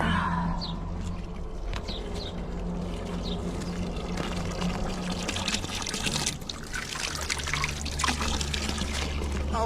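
Water trickles and pours steadily into a dog's water dish on a winter homestead, a close, continuous splashing stream with low background rumble and brief bits of talk.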